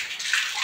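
Water splashes and sloshes steadily in a bath as a child is washed, a dense, continuous wash of close splashing with no pauses.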